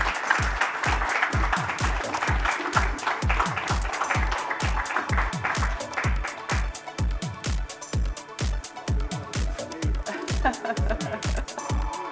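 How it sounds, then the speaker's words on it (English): An audience applauds an award recipient on stage at the Global Leadership Award ceremony of the USIBC India Ideas Summit, with steady, dense clapping and a regular rhythmic thumping underneath, as if music plays along. "Ladies and gentlemen, a big round of applause for Bob Pragada."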